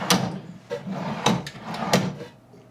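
A wooden bathroom vanity drawer, stiff and sticking, slides open and shut several times, giving close woody thumps and scrapes that fade out at the end.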